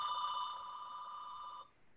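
An office telephone rings with a steady, bright electronic trill that holds for about a second and a half and then cuts off, leaving faint room noise.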